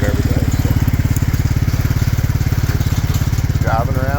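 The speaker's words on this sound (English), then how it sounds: "just driving around this pasture with Natural Grandma 10 by 18 chicken tractors" A small engine vehicle chugs steadily while pulling a 10 by 18 chicken tractor across a pasture, a loud close rhythmic putter throughout with a brief voice near the end.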